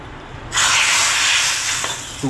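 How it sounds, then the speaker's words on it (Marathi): A hot tempering poured into dal erupts in a loud, close, steady sizzling hiss that starts abruptly and holds for nearly two seconds before tapering. "हांगा आतां फंड घालता डाळीक"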